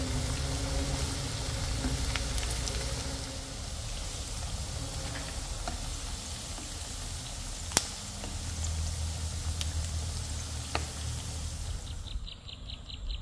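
Batter-coated pork belly frying in a pan of oil, a steady close sizzle and crackle with occasional sharp pops, continuous and fairly quiet.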